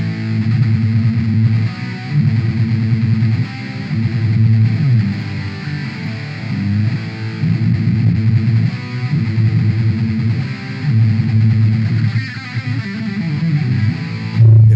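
An electric guitar played through a small amp with heavy distortion chugs out a loud, continuous rock riff with rhythmic pulsing chords, close and alone, with no talking.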